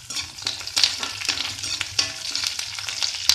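Chopped curry leaves frying in hot oil with garlic and cinnamon, a loud close sizzle punctuated by crackling pops and stirring scrapes, no talk.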